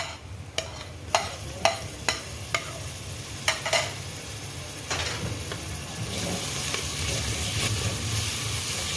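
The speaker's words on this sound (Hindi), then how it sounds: "दो से 3 मिनट के लिए इसको अच्छी तरह भूनूंगी मैं।" Mutton chops fry in a pan with ground garlic, ginger and green chili paste, a steady sizzle under repeated sharp clicks and scrapes of a spoon stirring, close up.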